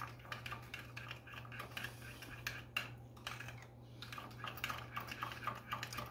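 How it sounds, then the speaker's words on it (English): A spoon stirs coleslaw dressing in a bowl, making faint, irregular clinks and scrapes that repeat quickly and close up over a low, steady hum. "then you're just going to stir it up"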